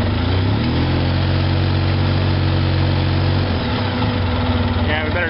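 Polaris Sportsman 700 ATV engine runs loud and close after a blip of throttle, a steady buzzing idle that holds for several seconds and then drops slightly in pitch.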